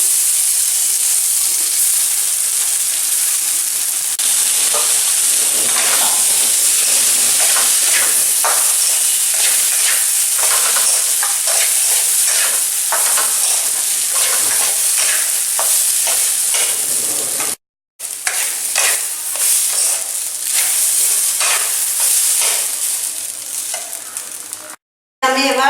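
Gobindobhog rice is stirred and fried in a pan for fruit pulao, a loud continuous sizzle with repeated spatula scrapes and rustles, briefly cutting out twice near the end.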